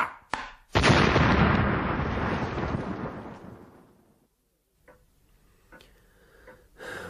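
Gunfire in an audio drama as a battery is ordered to fire: a sharp crack, then a loud sustained roaring volley that fades over a few seconds, followed by scattered fainter bangs.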